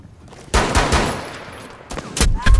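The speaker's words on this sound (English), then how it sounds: "Oh, nope, still on that Tachanka gun." Tachanka's mounted machine gun fires in Rainbow Six Siege: a loud, sustained burst of rapid shots, followed by shorter sharp bursts near the end.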